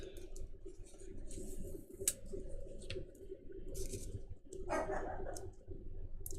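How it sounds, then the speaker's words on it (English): A pet dog barks a few times in a quiet indoor room, short faint yaps spaced apart, with a louder burst near the end. "When he barks, it really freaks me out, you know."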